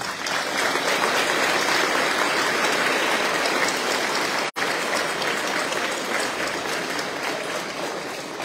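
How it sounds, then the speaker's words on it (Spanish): Audience applause at a secondary school event, loud, dense and sustained, with a single brief dropout midway before the clapping continues at the same level. "Pido un aplauso para ellos."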